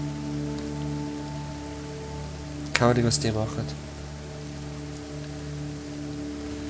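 Steady rain hisses across the whole stretch in the video game Kenshi's Floodlands, under a constant tonal hum, while someone speaks German briefly midway.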